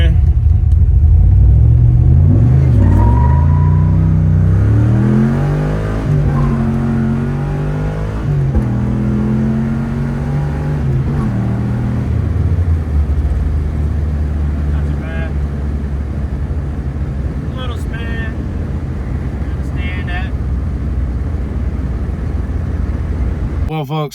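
A Nissan GTR fitted with a new fuel system accelerating on the road, its engine revving up and droning loudly through rising gear pulls, with wind noise and occasional talk inside the car.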